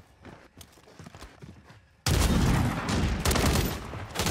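Gunfire in Warzone 3 with a BAS-B class setup: quiet scattered shots, then a loud, dense burst of rapid firing from about two seconds onward.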